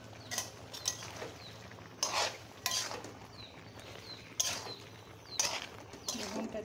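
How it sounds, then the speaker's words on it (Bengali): Eggplant added to a vegetable curry in a pan, heard as a series of soft clattering and scraping knocks of pieces and a utensil against the pan, irregular and fairly quiet against a low background hum. "এখন আমি বেগুনটা দিয়ে দিচ্ছি।"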